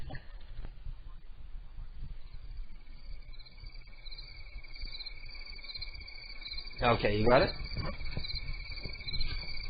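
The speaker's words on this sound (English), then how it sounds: "In the meantime, I'll play some cricket sounds." Recorded cricket chirping played on a radio show, a steady thin high trill running throughout at moderate level, with a voice talking briefly over it near the end.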